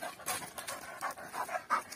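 A Doberman panting close by, quick rhythmic breaths repeating steadily over two seconds, soft and alone with no talk.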